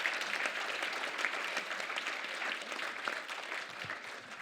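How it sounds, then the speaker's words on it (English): A crowd claps continuously in a dense, even patter of applause that fades slightly toward the end. "Let's give them another round of applause,"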